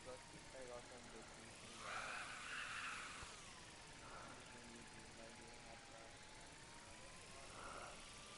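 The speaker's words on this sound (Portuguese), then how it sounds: "Here, give the drone a whirl around campus." In the video game Life is Strange, a small drone flies around a campus with a steady whirring, buzzing hum that swells and fades, heard beneath people talking.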